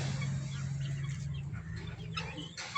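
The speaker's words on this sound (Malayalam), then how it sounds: "ചിക്കനിക്കോഴികൾ കൂട്ടിലുണ്ട്" Chickens clucking inside a coop on a small farm, a low steady hum of murmuring birds with a few sharper clucks rising near the end, fairly close and with no talking.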